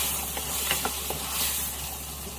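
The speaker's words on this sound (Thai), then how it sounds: "เราก็จะผัดส่วนผสมของเครื่องปรุงทั้งหมดให้เข้ากันค่ะ ผัดไปเรื่อย ๆ" Pork belly stir-fries with shrimp paste seasoning in a hot pan, a continuous sizzle with a few quick scraping stirs near the start.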